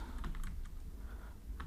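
Computer keyboard typing while laying out an Android app screen, a quick run of soft clicking keystrokes at close range over a low background hum, with no talking.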